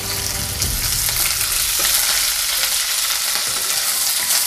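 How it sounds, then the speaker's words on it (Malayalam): Chopped okra and green chillies sautéing in hot oil for a tamarind okra curry, a loud, continuous close-up sizzle with occasional stirring scrapes throughout. "ഇത് നന്നായിട്ടൊന്ന് വഴക്കിയെടുക്കാം"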